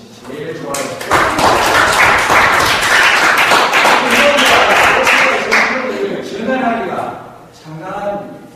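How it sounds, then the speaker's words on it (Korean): A burst of audience applause swells for about four seconds, dense and steady, then fades into voices and a few scattered claps. "박수 한번 주시지."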